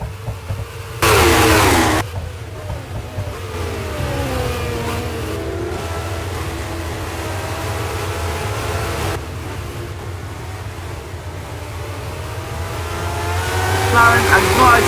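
Race cars rush past the start-finish line during a circuit race, a loud steady engine roar with rising and falling pitch as the cars pass, swelling again toward the end.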